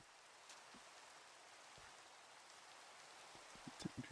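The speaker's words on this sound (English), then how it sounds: "Yeah, it's the 5th time it's rained on this world today." Minecraft rainfall hisses evenly for a few seconds, a soft constant patter that grows slightly more uneven with brief louder drips near the end, with no one speaking.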